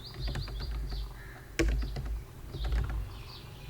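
Someone types on a computer keyboard, with a few soft, irregular key clicks and one sharper tap, faint and close. Crows caw in the background.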